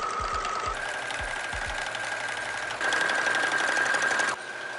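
Sewing machine running steadily as it stitches a tea towel, a loud, continuous buzzing whir with a high mechanical whine that shifts pitch slightly as the speed changes, no voices.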